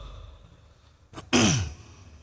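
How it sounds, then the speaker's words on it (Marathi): A man clears his throat with a short rasping burst, then gives a louder, longer cough-like hack, close to the microphone during a political speech, with no talk over it. "काहीतरी खोकला सुरू झाला मला."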